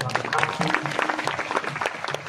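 An audience applauds steadily at a devotional comic kirtan, dense overlapping claps continuing at even loudness throughout.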